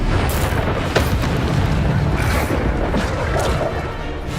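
Bombardo spell explosions in Witch Simulator 2023 rumble and crash in a dense, continuous barrage of booms and impacts, with sharp bursts scattered through the steady loud din.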